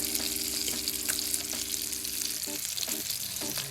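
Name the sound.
fish searing in pan with butter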